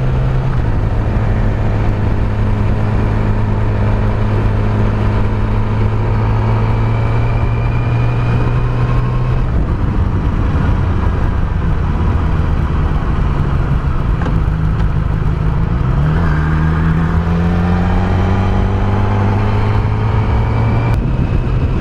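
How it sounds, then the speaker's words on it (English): A Yamaha R6 motorcycle with an engine fault rides in first gear, its engine droning steadily close by with uneven surges and pitch shifts as it jerks at low speed. "I'm going to test the bike again on first gear."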